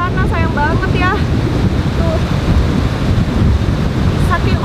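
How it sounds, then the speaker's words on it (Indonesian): Big ocean waves crash and a strong wind blows on a beach, producing a loud, constant rush with heavy wind buffeting on the microphone; someone talks over it in bursts. "Saking ombaknya tuh gede banget, jadi agak susah gitu kita berenang."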